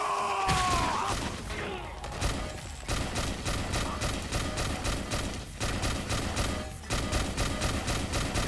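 Rapid gunfire from a Let It Die fight against an enemy, a dense stream of loud, sharp shots repeating steadily for several seconds, opening with a few heavier thuds and carrying on without pause.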